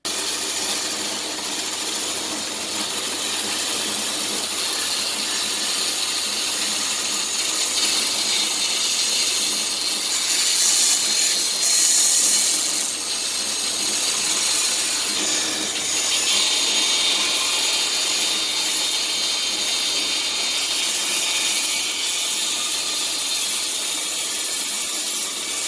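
A band saw cuts wood in a steady, continuous whine with a bright, hissing rasp. It runs loud and unbroken for the full length, with no speech.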